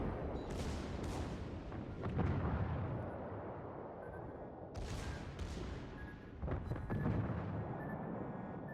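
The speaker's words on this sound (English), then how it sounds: "it looks like the secondaries are once more doing an excellent job" Secondary guns of the battleship Gneisenau firing in World of Warships, several booming blasts in irregular bursts over a continuous rumbling battle background.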